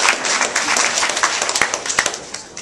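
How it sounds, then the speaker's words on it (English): Audience applause at a Lincoln-Douglas demo debate workshop, a short, moderate burst of clapping from a modest crowd with individual claps standing out as it fades. "Let's give him a round of applause."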